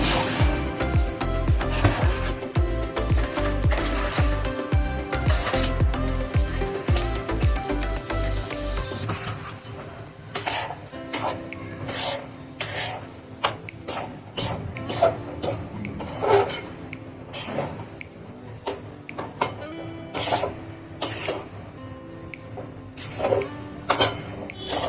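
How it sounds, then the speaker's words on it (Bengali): Puffed rice powder stirred in a hot pan on a gas stove while making gulab jamun, giving a steady, close scraping and rubbing that runs throughout, heavier and more thumping at first, then lighter and more rasping. "এটা নাড়তে হবে।"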